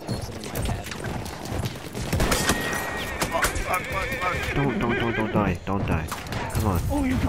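Horse in Battlefield 1 neighing loudly with a long whinny, then trotting with clip-clop hooves amid battlefield noise, while a player talks over it.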